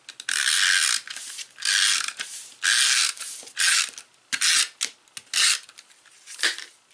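A Stampin' Up snail adhesive tape runner is pulled across card stock in several short, close strokes, each giving a bright ratcheting, clicking rasp separated by brief pauses.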